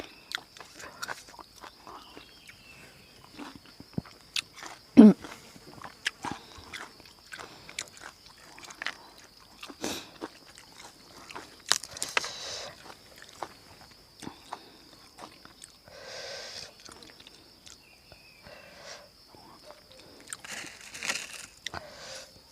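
Someone chews fish-sauce-soaked shrimp and crunchy vegetables in a long run of close, irregular crunches and wet bites, with a faint insect whine running underneath.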